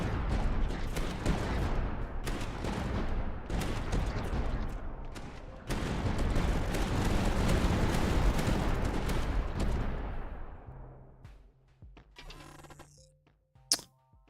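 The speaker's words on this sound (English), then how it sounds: "These howitzers are awesome, especially this triple barrel upgrade" Triple-barrel howitzer artillery in the strategy game Tower Dominion fires in a dense barrage of heavy booms and thuds, loud and continuous before fading out, with a few sharper interface clicks at the end.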